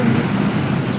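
A bus arriving near Sikandarpur village, its engine rumble steady and close throughout, with no talk.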